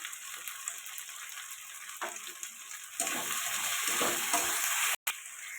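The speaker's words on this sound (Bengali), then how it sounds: "এটা ভালো করে কষাবো" Tomato-based masala for a kajal gouri fish curry is sautéed and stirred in a pan. It starts as a soft hiss, then swells into a louder, steady sizzle with scraping stirs.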